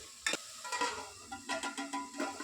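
Bitter gourd sautés with tomato and salt in a pan, giving a quiet frying hiss broken by repeated short scraping strokes of a spatula at an uneven rhythm.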